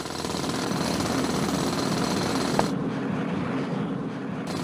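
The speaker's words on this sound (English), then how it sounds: "I'm gonna lose my freaking mind on this drill." Mining drill in the Chipmatic automation game, loud rapid jackhammer-like rattling with a sharp click partway through, after which the higher hiss drops away and a duller grinding continues.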